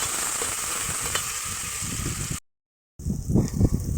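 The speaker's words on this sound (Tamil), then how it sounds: "வெங்காயம் நல்லா வதங்கணும்." Small onions with curry leaves sautéing in a pan for mutton masala, a close, continuous sizzle with stirring scrapes, broken by a short silent gap before the frying resumes louder.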